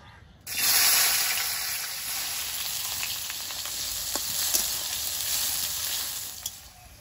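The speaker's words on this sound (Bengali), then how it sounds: "গাজরটা যেহেতু শক্ত সবজি, সেদ্ধ হতে দেরি হয়, তো গাজরটা আগে ভেজে নেব" Carrots frying in oil in a wok, a steady close sizzle that starts abruptly after a brief quiet moment and holds a continuous crackling hiss with scattered sharper pops throughout.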